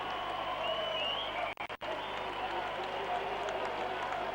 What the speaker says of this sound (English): Powell being applauded as he comes off.